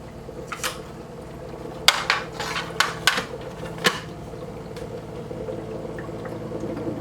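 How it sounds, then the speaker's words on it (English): Water running through a SimPure filtration system, a soft steady trickle under several sharp clicks and clatters of plastic parts, with the flow continuing quietly once the knocks stop. "I'm hearing water."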